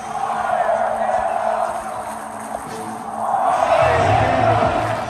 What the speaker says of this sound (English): The capacity crowd wants blood.